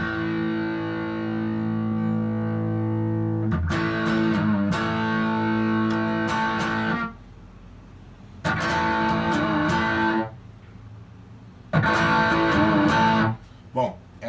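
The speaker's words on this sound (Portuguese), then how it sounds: "essa é a distorção do meu ampli" A guitar played through an amplifier's own distortion channel, with sustained overdriven chords ringing out loud and clear, separated by pauses in which the amp hum stays low.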